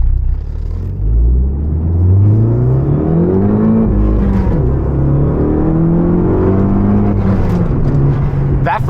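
Fiat 500 Abarth with a big turbo engine revving hard through first gear toward redline, a loud continuous engine drone rising in pitch for about four seconds, then easing and climbing again, with no voices.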